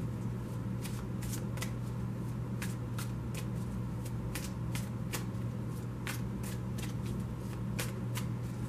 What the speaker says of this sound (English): I'm just shuffling the next deck as I'm looking at these.